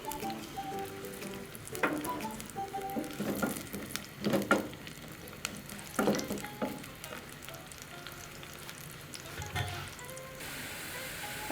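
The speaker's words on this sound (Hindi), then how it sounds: "इसमें एक अदद कटा हुआ प्याज शामिल करें और इसको ब्राउन होने तक फ्राई करें।" Chopped onion frying in hot oil for a potato and egg curry, giving a continuous sizzle with bursts of stirring and scraping and a soft tonal sound early on.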